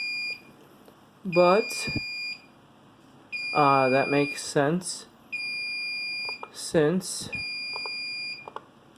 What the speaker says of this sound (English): as you can hear, the alarm is once again going off